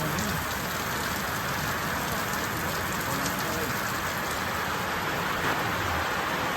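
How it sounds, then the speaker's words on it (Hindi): Heavy torrential rain pours steadily in the Pithoragarh mountains, a dense, loud, unbroken hiss of drops hitting surfaces close by. "ये धुआंधार बारिश का मजा लोगे गाइस"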